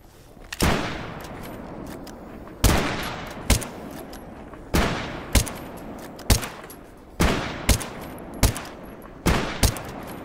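Rifle shots fired in the survival shooter STALKER GAMMA, about a dozen loud, sharp cracks spaced a second or so apart, each trailing into a short echoing decay, with no voices.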